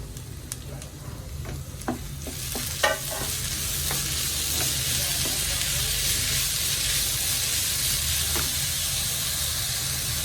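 Chopped beetroot dropped into a hot pan and stir-fried, a few clattering drops and scrapes at first, then a steady, close hissing sizzle that carries on evenly to the end.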